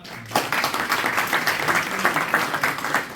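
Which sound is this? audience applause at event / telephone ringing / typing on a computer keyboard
audience applause at event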